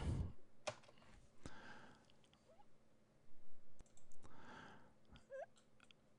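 Several computer keyboard keys are pressed for a Ctrl+C copy shortcut, a few quiet, crisp clicks scattered across a few seconds in a hushed room, with no speech.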